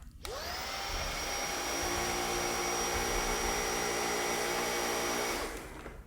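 A Roborock H6 cordless stick vacuum spins up with a rising whine, then holds a steady, bright motor hum and airflow nearby before winding down.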